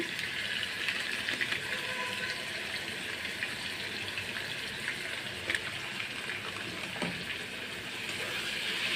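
Chilli and turmeric powder with spices sizzle and fry in oil in a pan for a papad dish, giving a steady, soft hiss and crackle at close range with an occasional faint clink.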